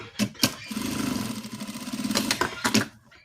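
An electric sewing machine stitches a seam on a plush triceratops toy, a steady rapid motor whir lasting about two seconds, bracketed by short clicks and handling knocks, close and fairly loud.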